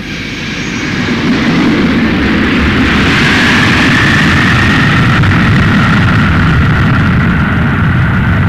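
A 1983 Chinese civil aviation airliner passing overhead, a loud, sustained jet engine roar that swells in and holds steady, with a faint whining tone rising through it.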